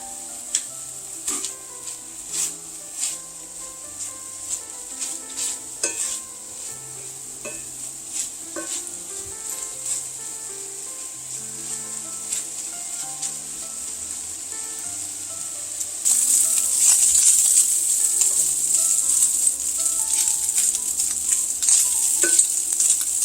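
Bacon sizzles steadily in a pan on the stove while being stirred, with frequent scraping clicks of the utensil; the frying grows louder and brighter in the final stretch, with no talk.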